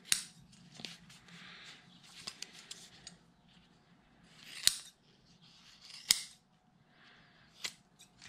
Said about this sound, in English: These scissors have lasted me like 10 years and I've never even sharpened them once.